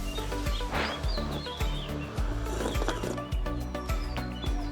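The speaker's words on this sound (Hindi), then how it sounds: "आपको चिड़ियों की आवाज़ आ रही होगी, बीच बीच में पीकॉक की आवाज़ आती है, बर्ड्स की आवाज़ तो आती रहती है।" Birds chirp in the hills around Kotabagh near Nainital, Uttarakhand, with faint, scattered high calls over a steady low rumble and soft rhythmic background noise.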